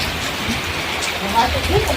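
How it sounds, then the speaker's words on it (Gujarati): Monsoon rain patters steadily and evenly on farm ground, a close, continuous wash of drops with a faint voice somewhere beneath. "વરસાદ આવી ગયો"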